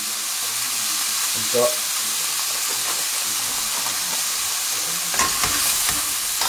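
Veal kidney frying gently in a pan with a dusting of flour, giving a steady soft sizzle with occasional stirring scrapes, with brief talk over it.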